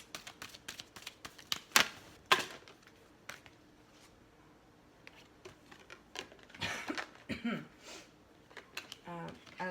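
Card shuffling in quick bursts of crisp riffling and slapping clicks, some loud and close, with quieter shuffles between.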